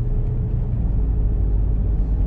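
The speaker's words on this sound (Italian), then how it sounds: "Adesso sto aumentando la velocità fino a 90 orari." A 2020 Volkswagen Passat accelerating toward 90 km/h, heard as a steady, loud low engine and road rumble inside the car with no talking.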